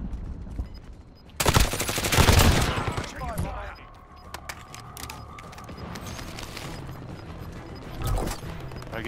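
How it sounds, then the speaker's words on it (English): Bursts of video-game gunfire crack loudly and rapidly in a fusillade, with scattered shots continuing beneath ongoing game ambience. "We're getting shot at from somebody."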